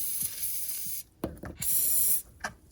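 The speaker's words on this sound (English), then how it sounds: "I want to spray in between the gap of the retainer nut and the casing of the lower unit." Short hissing bursts from an aerosol penetrating spray can aimed at a boat outdrive lower unit retainer nut, two longer sprays and a quick final spritz, close up, with faint clicks and handling noise between them.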